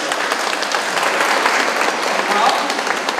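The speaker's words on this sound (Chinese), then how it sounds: "请大家热烈掌声" An audience at a choir's Mother's Day charity performance in a hospital applauds. The clapping is steady, dense and continuous, with a voice speaking faintly underneath.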